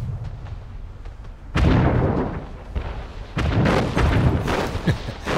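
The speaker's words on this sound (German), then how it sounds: "bisschen Artilleriebeschuss." Artillery fire in the video game Anno 1800 booms and crackles in repeated heavy blasts, with a sudden loud salvo partway through and further overlapping bursts, against a low rumbling battle background and no talk.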